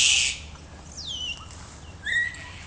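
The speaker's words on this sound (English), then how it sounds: "That whistling is also them." Kaka parrots calling among trees in a New Zealand forest, a loud harsh burst up front followed by clear sliding whistles, moderately near and with no talking.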